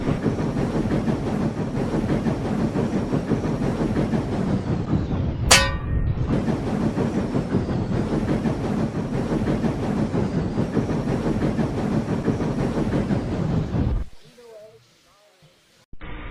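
A train hauling wagons loaded with logs rumbles on with constant clanking and rattling. A sharp whistle-like blast cuts in partway through, and the rolling noise stops abruptly near the end.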